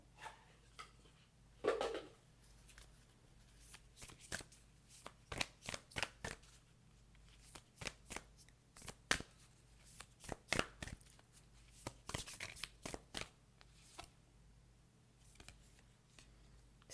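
Moonology oracle cards being shuffled, a quiet close series of short sharp riffling bursts in an irregular rhythm, with no talk.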